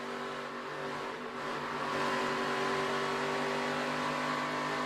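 ARCA stock cars roar together on a restart at Charlotte Motor Speedway, a steady loud engine drone that swells slightly as the field accelerates.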